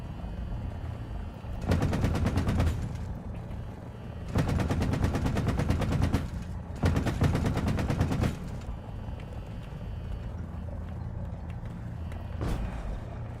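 Loud, rapid machine gun bursts in the War Thunder video game, three long rattling volleys of a second or two each over a steady engine rumble, then a single short burst near the end.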